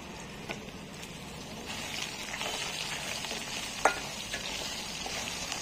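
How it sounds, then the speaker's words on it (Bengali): Soybean chunks frying in hot oil in a pan, a soft continuous sizzle with occasional light stirring clinks, faint and close, without speech. "আমি সোয়াবিনটা ছেড়ে দিলাম। সোয়াবিনটা একটু ভেজে নামিয়ে নেব।"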